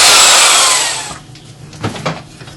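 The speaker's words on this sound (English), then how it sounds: "First thing to do is to drill down to the depth of my" A drill bores into a wooden tenon for a yew and ash Windsor chair, a loud whirring grind for about a second before cutting off, followed by a few soft knocks and handling noises.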